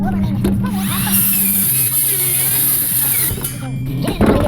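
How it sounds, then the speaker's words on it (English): A reciprocating saw (Sawzall) cuts blocks of floor joist on a custom home framing site, a loud continuous buzzing cut running steadily for several seconds, close by. "Probably still just a sawzall."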